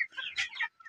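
Village chickens in Nepal cluck in a short close burst of a few quick, slightly raspy notes, with no one speaking.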